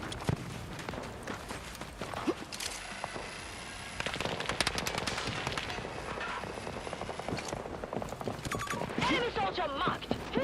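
Rapid bursts of AEK assault rifle fire in Battlefield 2042, loud and sustained across the clip with crackling shots and footsteps mixed in amid busy in-game action.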